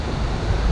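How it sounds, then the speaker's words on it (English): Atlantic waves roll onto the black-sand coast of St. Vincent as a steady, loud wash of surf mixed with wind noise, with no speech. "the waves are rolling into the coast"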